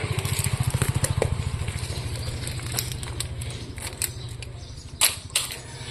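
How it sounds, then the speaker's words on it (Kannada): A parked motorcycle idles steadily after a key start, its low rapid thump pulsing evenly throughout, close by, with small clicks and rattles on top and no talk. "ಇವಾಗ ಹೋಗಿ ಕೀ ಹಾಕಿ ಸ್ಟಾರ್ಟ್ ಮಾಡೋಣ."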